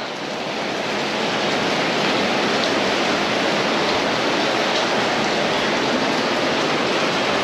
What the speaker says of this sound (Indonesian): Hujannya tambah curas gitu ya Mbak Besti